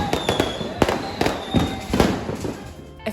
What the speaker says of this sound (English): And then it was time for the firework display